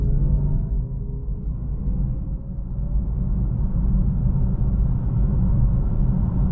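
A 2025 Mercedes-AMG C63 pulls away from a stop in electric mode, a low road and drivetrain rumble under a faint motor whine that climbs gradually as speed builds, heard from inside the car without talk.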